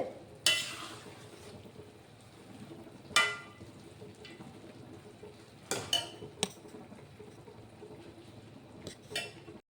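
Boondi being stirred in sugar syrup over a low gas flame, soft scraping and stirring with a few sharp clinks of a spoon against the pan at irregular intervals, no talking.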